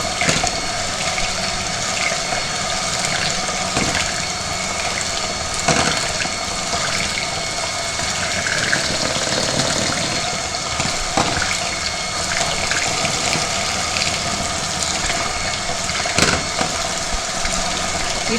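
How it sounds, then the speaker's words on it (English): An electric hand whisk running at speed through toad in the hole batter, a steady loud whirring drone with faint clicks of the blades, continuous for the whole stretch and without speech. "Make sure that the wire is away from the whisking blades itself. Okay, let's increase the speed of this."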